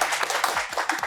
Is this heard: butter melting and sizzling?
no